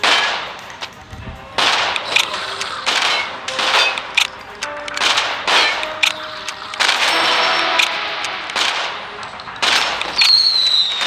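Diwali firecrackers bursting in a rapid irregular series of sharp, loud cracks and bangs, close by and echoing, with brief gaps between volleys and a whistling streak near the end.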